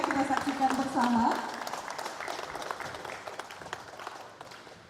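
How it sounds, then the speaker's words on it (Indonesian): A ceremony crowd in North Maluku applauds, moderate clapping that fades gradually, with a voice speaking over the start. "Boleh kita berikan apresiasi dengan tepuk tangan yang meriah"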